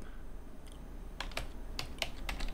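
A computer keyboard clatters in a short burst of quick, close keystrokes, typing into a Microsoft Edge browser over a faint background hum.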